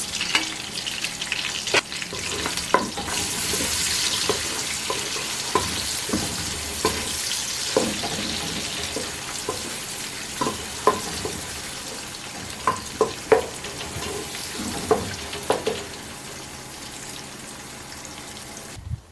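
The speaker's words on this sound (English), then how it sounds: "Once the oil gets hot, add your chopped garlic, the chopped onions, and the sachet tomato paste. Fry for about 2 minutes." Chopped garlic, onions and sachet tomato paste frying in hot vegetable oil, a steady sizzle with frequent popping crackles and occasional stirring clicks, close and fairly quiet throughout.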